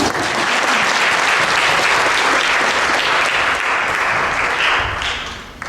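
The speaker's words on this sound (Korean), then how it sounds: "우리 수고한 친구들에게 박수해 주시고" A church congregation applauding children, loud and sustained clapping from many hands lasting several seconds before tapering off at the end.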